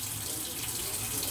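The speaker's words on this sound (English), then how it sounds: "So we're just going to rinse it off." Steady tap water runs over chopped vegetables in a colander in a home kitchen sink while making salsa and guacamole, a continuous close hiss and splash throughout with no talking.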